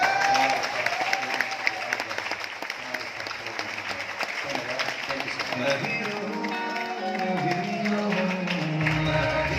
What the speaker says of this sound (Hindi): जोरदार वाली तालियां था